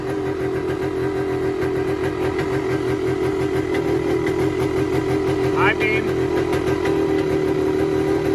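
A 1978 Yamaha DT250 motorcycle engine idles steadily at a fairly high, constant pitch throughout, with a person speaking briefly over it.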